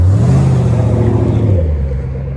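A 2013 Chevrolet Camaro ZL1 V8 rumbles loudly and close by, its deep engine note rising as it revs, then easing back down while it rolls up.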